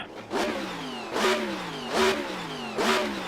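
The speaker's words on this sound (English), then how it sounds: "So this is the Alfa GT3." An Alfa GT3 race car engine in a video game revs hard four times in a steady rhythm, each climb rising in pitch and then dropping back, loud and close with no voices.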